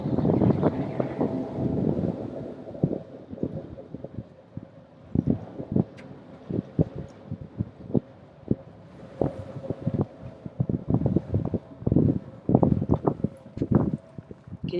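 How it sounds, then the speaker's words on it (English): Wind gusting across the microphone while boating on the Erie Canal near a marina entrance at Little Falls, New York, aboard a Greenline yacht, with rough buffeting bursts that come and go throughout. "The wind picks up."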